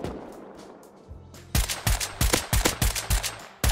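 An AK rifle fires in the Rust video game: after a quieter stretch, a rapid string of about ten loud, sharp automatic shots rings out in an uneven rhythm, close and dominant.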